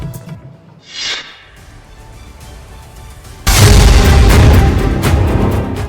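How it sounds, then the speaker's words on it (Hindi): A bomb blast in Delhi, seen in news footage, erupts as a sudden loud, broad boom that rolls on into a sustained roaring rumble after a quieter stretch with a faint whoosh. "ये देखिए जरा, विस्फोट की सबसे क्लियर फुटेज भी आपको हम दिखा रहे हैं।"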